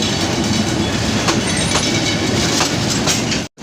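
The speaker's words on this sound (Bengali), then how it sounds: "এসি সিস্টেম একটি ট্রেন নতুন ট্রেন শহরে প্রবেশ করেছে" A new air-conditioned train rolls into a city, loud and close, with a dense, steady rumble of wheels on rails and rhythmic clacking, cutting off abruptly at the end.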